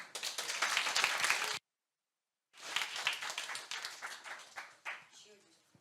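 A church audience at a Korean evangelistic meeting claps in crisp, dense bursts, with a brief silent gap in the middle before the applause resumes and tapers off.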